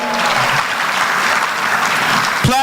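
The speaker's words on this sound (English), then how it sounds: "Round of applause." Loud, close audience applause for a presenting sponsor at an awards event, steady dense clapping that carries on throughout, ending with a brief thump.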